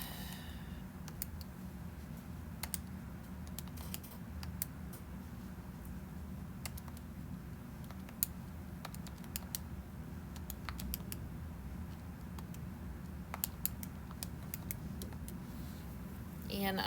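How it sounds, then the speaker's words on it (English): Faint, scattered clicks from typing on a computer keyboard come in irregular bursts over a steady low room hum for the whole stretch. "type this all in."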